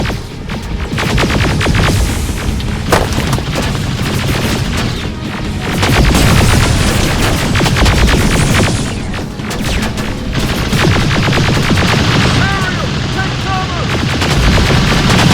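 Battle gunfire in the video game Terminator Resistance: dense, loud bursts of automatic fire and booming explosions rolling continuously, with brief swells of heavier blasts.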